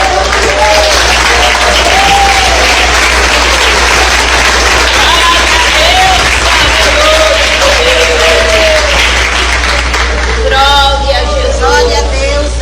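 A church congregation claps loudly and continuously for several seconds, a dense wash of applause with crowd murmur and voices mixed in, and some singing rising toward the end.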